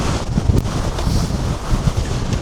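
Strong wind on an open Scottish hill buffets the microphone with a continuous loud, low rumble and gusts throughout, with no talk.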